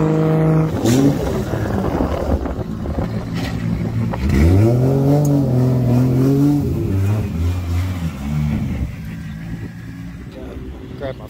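A BMW E90 drift car tests new steering at a track, its engine revving hard and climbing through gears, loud and near with smoothly rising and falling pitch, while voices talk over it.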